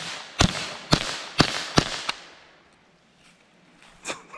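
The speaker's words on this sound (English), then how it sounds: "Let's shoot this thing up with 5 rounds." Five sharp rifle cracks from a Savage 64F fired at a milk gallon, coming in a quick, slightly uneven string, each a loud report with a short tail, followed by quiet.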